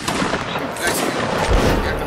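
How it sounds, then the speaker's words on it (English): Musket volleys in a Napoleonic Wars video game line battle, dense overlapping cracks and booms rolling close and loud, with a voice briefly under the gunfire. "Keep shooting, guys. Keep shooting."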